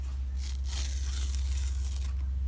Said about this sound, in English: the freezer paper peels right off easily